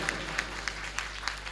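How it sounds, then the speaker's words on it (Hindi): Audience clapping to welcome a guest at a Shrimad Bhagwat Katha religious gathering: a steady run of moderate, evenly spaced claps over a low electrical hum, with no talk. "जोरदार तालियों के साथ उनका स्वागत कर अभिनंदन करें"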